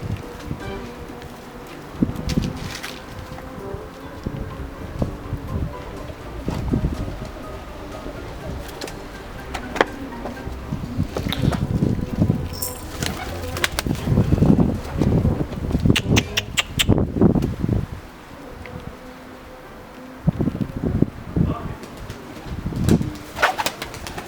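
Pigeons cooing steadily up close while being fed, with soft wing flutters and rustling throughout and no talking.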